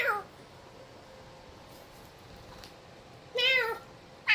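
A house cat meows twice, a short call at the start and a longer, louder one near the end, both close to the listener against a quiet room.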